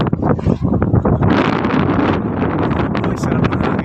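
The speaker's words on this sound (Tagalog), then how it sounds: "Ay, sarap ng hangin." Strong wind buffets a microphone outdoors in Tagaytay, a loud, continuous rumbling roar with gusty bursts throughout and no clear speech.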